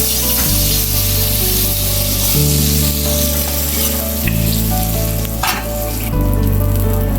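Pomfret fish frying on a flat tawa, a loud, close, continuous sizzle with occasional scraping of a turner, heard over a steady background of music, no voices.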